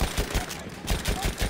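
A Chauchat machine gun firing in the video game Battlefield 1, a quick rhythmic burst of about eight shots at an even pace, fairly faint.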